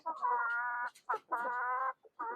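Chickens in a backyard coop cluck and call loudly and close by, in three long sustained bursts with brief pauses between them and no talk over them.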